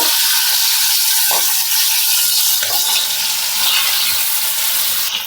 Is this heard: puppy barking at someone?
no